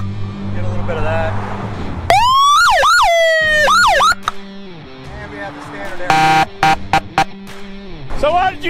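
A Harley-Davidson Road King police motorcycle of the Davie Police Department sounds its siren up close and loud, cycling through rapid yelp and wail tones with abrupt switches and short electronic bursts between patterns.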